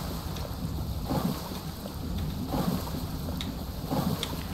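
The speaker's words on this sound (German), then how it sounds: "Klingt nach einem Sturm." Storm in the survival video game Stranded Deep: steady rain hiss and gusting wind roar continuously, with low rumbling swells that rise and fall every second or so, no talk.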